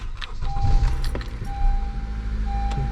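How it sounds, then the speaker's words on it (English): Car being started and left idling to warm up before an oil change, a steady low engine rumble with a brief whine and some clicks or jangling keys, close and continuous, no talking. "you're gonna want to let the car warm up for a little,"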